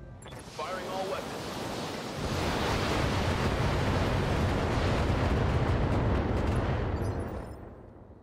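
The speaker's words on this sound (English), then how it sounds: "Firing all weapons." Mech in the BattleTech Extended 3025 mod unloading all weapons at once, a loud roaring wash of blasts and rumble that builds and holds for several seconds before tailing off, with a voice briefly audible over it.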